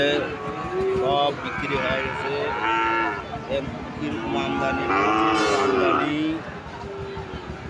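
Cattle low at a busy livestock market in Joypurhat, Bangladesh, with bulls and heifers of Sahiwal, Gir and local breeds, several loud rising moos close by under constant crowd chatter and someone talking.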